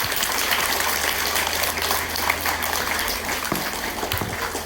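A school assembly audience of students gives a round of applause, a steady dense wash of clapping throughout with some low background rumble.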